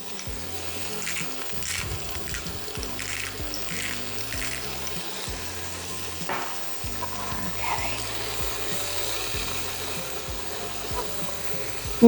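Meat seasoned with salt and pepper sizzles in a pan, a soft steady crackle with occasional light scrapes and knocks, close and unbroken, no talking.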